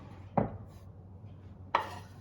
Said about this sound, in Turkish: Şimdi soğanlarımı tencereme alıyorum.